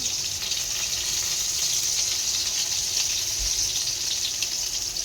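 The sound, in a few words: frying small fish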